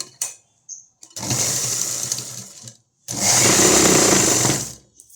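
Sewing machine stitching an umbrella long frock, running in two bursts: a short start then a steady run of about two seconds, a pause, and a second steady run of nearly two seconds, close and fairly loud.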